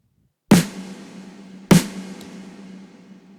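Two snare hits sound, an acoustic snare layered with a sampled snare, each a fat, loud crack followed by a long sustained ring that fades slowly, with nothing else around.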